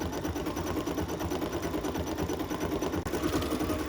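An embroidery machine stitches out a small green leafy Persian bud pattern, giving a steady, fast mechanical whirr with a rapid needle rhythm, close and moderately loud, with no talking.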